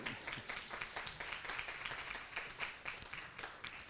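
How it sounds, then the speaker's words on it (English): Applause from an audience at a museum talk event, faint and steady with dense clapping throughout, no one speaking over it. "Yeah, round of applause for Wade."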